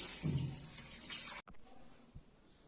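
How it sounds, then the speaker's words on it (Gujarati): A faint, steady stream of cold water pours and splashes over cooked noodles for over a second, then stops, leaving soft drips and quiet room noise. "એને ઠંડુ પાણી બરાબર નાખી દેવાનું"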